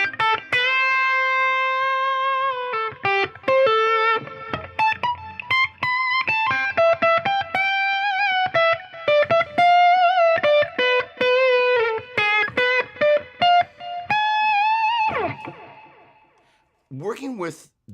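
Electric guitar notes and chords ring out through delay and reverb with pre-delay, sustained tones echoing and trailing off between picked phrases, ending in a sliding, swelling tail.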